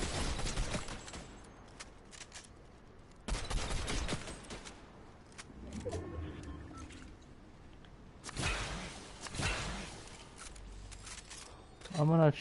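Gunfire in Fortnite on PS4 comes in three separate loud bursts of rapid shots, with quieter game sounds and a faint tonal effect in the gaps between them.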